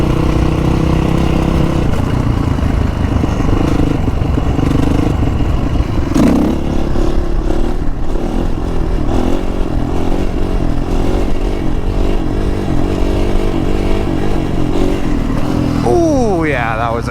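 A Honda CRF450R dirt bike ridden in a parking lot, its engine loud and close with rising and falling revs and rattling clatter, a voice talking over it throughout.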